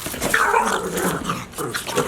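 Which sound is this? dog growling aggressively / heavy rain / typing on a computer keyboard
dog growling aggressively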